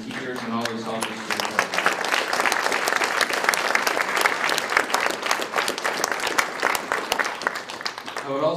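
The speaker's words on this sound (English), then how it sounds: "if we could please have a round of applause for the teachers and all those helpers" An audience at a school PTA pinning ceremony gives a sustained round of applause for teachers and helpers, dense, fairly close clapping that builds quickly after a brief voice at the start and holds steady to the end.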